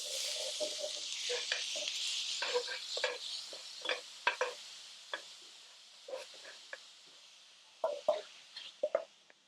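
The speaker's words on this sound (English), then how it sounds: "now we're going to cook our ground beef" Ground beef cooking in oil in a pan, with a quiet continuous sizzle and scattered scraping and stirring clicks from a utensil, soft and close, with no talking.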